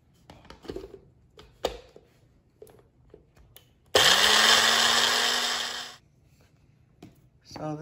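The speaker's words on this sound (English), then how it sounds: "we're gonna put some of the dehydrated lemongrass in the magic bullet to blend it up a bit" A Magic Bullet blender grinds dehydrated lemongrass in a loud, close two-second whirring burst that winds down sharply, framed by quiet handling clicks and taps before and after.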